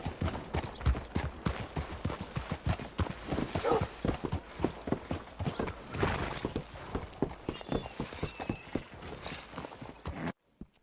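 Hooves of a Tiger Stripe Bay Mustang in a western video game clip-clop steadily at a walking pace, a crisp, close series of evenly spaced thuds that continues for about ten seconds.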